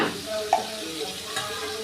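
Mustard and poppy seed paste masala being stirred and fried in a pan, a soft sizzle with a couple of quick spoon scrapes, close and fairly quiet.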